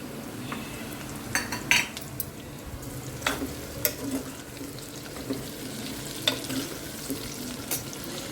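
Onions frying in a hot pan for a veg curry spiced with cumin and cinnamon, a steady low sizzle running throughout with occasional sharper clinks and stirring scrapes, close and moderately loud, no voices.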